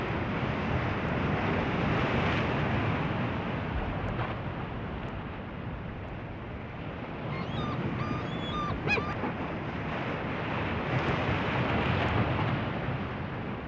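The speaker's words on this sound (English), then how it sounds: "My camera was on a tripod, but still buffeted by the wind." Steady, heavy wind buffets a camera on a tripod out on open coastal clam flats, a continuous loud rumbling roar with gusts that swell and ease throughout.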